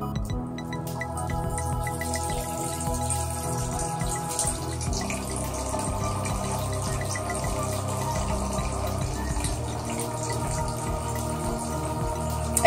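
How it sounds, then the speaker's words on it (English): Room-temperature spring water pours steadily into a glass mead jug holding a dandelion mead, a continuous close trickle and splash lasting throughout with a slight change in tone partway as the jug fills. "I'm going to add in a little bit of my spring water just to kind of top it off."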